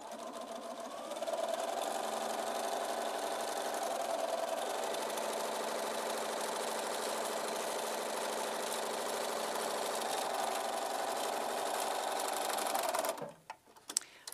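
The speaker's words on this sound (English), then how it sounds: "you're going to sew a 1/4 inch, just a little under a 1/4 inch from the other side." A sewing machine stitches a quarter-inch seam on a quilt block, a steady close mechanical whir and rapid rhythmic stitching that runs unbroken for about thirteen seconds before stopping with a couple of soft clicks.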